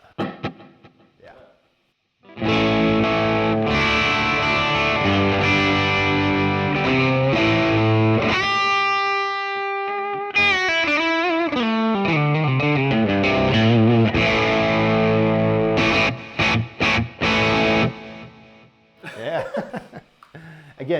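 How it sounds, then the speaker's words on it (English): Electric guitar played through a Boss Katana amp with a blues driver boost and delay, loud sustained distorted lead notes and bends with a steady ringing tail, dropping out briefly near the end amid short chuckles. "So it's got like a blues driver on it, and it's going to give it more of a lead type sound."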